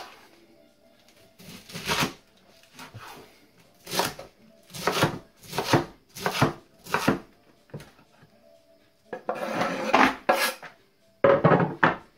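Cabbage for vegan kimchi is chopped with a knife on a board in a run of loud, close, rhythmic thuds, pausing briefly before a final quick burst of cuts.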